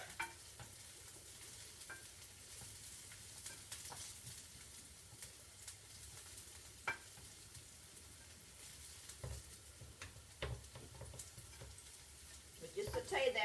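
Onions sautéing in a pan for salmon patties, a low, steady sizzle with scattered clicks and scrapes of stirring, moderately close, with faint sounds of someone talking in the background.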